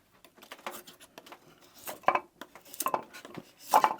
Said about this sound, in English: So it's sharp enough to peel some wood.